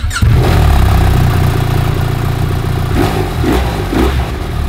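A motorcycle engine rumbles loudly and steadily near the listener, with a few quick throttle blips near the end, in a Monaco setting.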